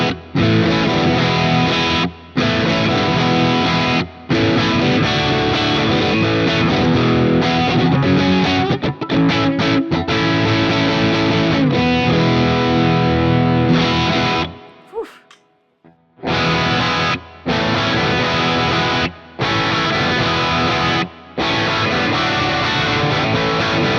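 Electric offset guitar switched to its middle pickup, played loud with a distorted, driven tone in sustained chords and riffs, broken by short pauses and a longer near-silent gap midway before the playing resumes.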